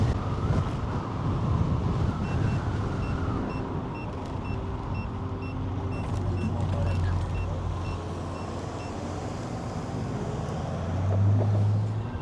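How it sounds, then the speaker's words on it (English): Strong wind roars into the microphones during a night ride on an Apollo Phantom 2.0 electric scooter, a continuous low rumbling buffet with faint traffic beeps in the background. "it is incredibly windy, so, you know, I hope the audio on this video comes out all right"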